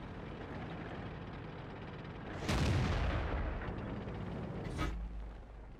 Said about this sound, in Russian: Меткий выстрел!